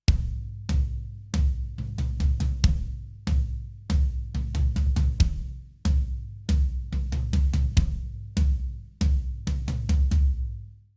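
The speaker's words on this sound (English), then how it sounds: "all I did was I did kick just on one, and then I played all of the tom hits on the floor tom." Worship-style drum kit groove in 6/8 time, a kick landing on beat one and clusters of floor tom hits between, with crash-like accents; close, punchy and rhythmic, no voices.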